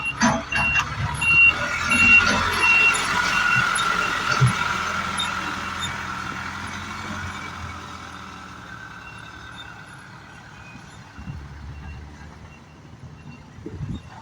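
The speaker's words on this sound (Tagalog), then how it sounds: "Napakaliit lang po ng truck na kanilang ginagamit." Small truck working at a dike construction site with a narrow access road, its engine rumbling steadily up close with a reversing-beep tone, loud at first and gradually fading, with faint voices in the background.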